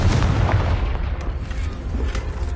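Bombarda and Confringo spell explosions from Hogwarts Legacy rumble in a dense, continuous low boom with scattered crackling bursts, loud and close, with no speech over them.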